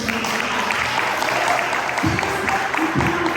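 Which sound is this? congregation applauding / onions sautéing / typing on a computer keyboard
congregation applauding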